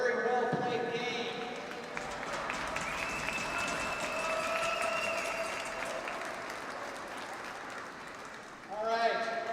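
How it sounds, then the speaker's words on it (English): After a league hockey game between the Voodoo and the Knights, a rink crowd applauds steadily, while tonal organ-like music and a voice run on top of the clapping, with a brief louder swell near the end. "How about a round of applause for a very well-played game?"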